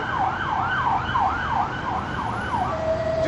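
A siren wails in quick, repeating rising-and-falling cycles, loud and steady, over a background hum of road traffic.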